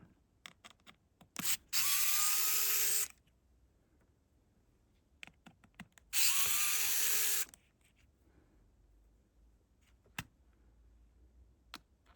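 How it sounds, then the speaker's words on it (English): A small electric screwdriver whirs twice in steady two-second bursts as screws are undone on a faulty New Nintendo 3DS XL, with scattered light clicks and taps between the bursts in a quiet room. "then we can undo some screws"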